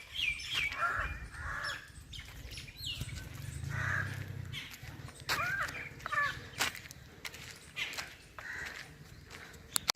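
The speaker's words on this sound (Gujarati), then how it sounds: "પક્ષીઓનો કલરવ છે ચારે બાજુ" Crows cawing and smaller birds chirping all around in a dense forest near a cave temple, calls scattered and overlapping at mid distance, with faint footsteps and low rumble beneath.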